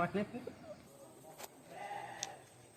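Sheep bleat in a few short, scattered calls while grazing, heard at a moderate distance under a voice narrating in a quiet outdoor setting.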